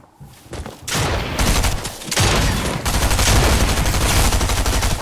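Sustained video game gunfire, dense rapid bursts of shots that run almost without pause, loud and close, with occasional heavier cracks mixed in.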